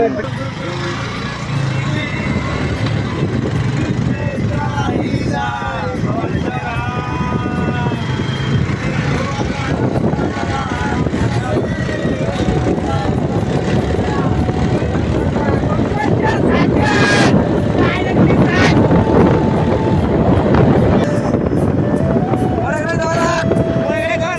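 Vehicle engine running after starting, a loud steady rumbling drone with strong wind buffeting on the microphone throughout, while people talk over it.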